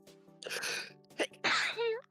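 Two sneezes in quick succession, close and sharp, each with a short breathy build-up before the burst.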